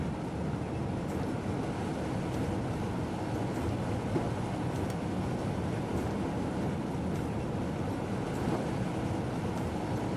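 Passenger train on the Cologne to Koblenz line, a steady rumbling roar with faint rhythmic clicks of wheels over rail joints, continuous and moderately distant.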